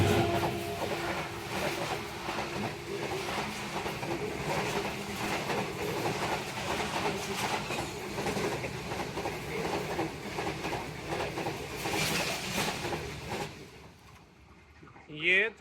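The Pak Business Express train rolls past with a continuous rumble and rhythmic clickety-clack of wagons over the rails, fairly distant and steady, then fading away near the end; some speech is faintly mixed in.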